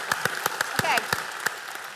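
Scattered handclaps from a modest debate audience at a media conference ring out one by one at an irregular pace, nearby and moderately loud, with a short vocal sound partway through.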